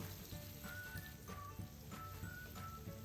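Masala-coated fish pieces frying on high flame in a hot steel pan, a steady close sizzle with faint crackles running throughout.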